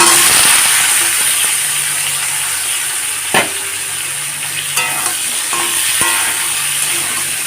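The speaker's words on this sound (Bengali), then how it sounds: "এখন দিয়ে দেব ধুয়ে রাখা আলু আর কাঁঠাল দানাগুলোকে" Potatoes and jackfruit seeds fry in hot mustard oil with panch phoron, giving a steady, loud, close sizzle throughout, broken by a few sharp clinks and scrapes of stirring.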